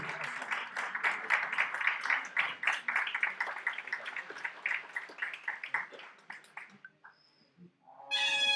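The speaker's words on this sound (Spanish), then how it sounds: "Aplauso grande, Alicia Villanueva." Audience clapping at a traditional Asturian tonada singing festival, steady dense applause over several seconds that thins out near the end, followed by a brief fresh burst.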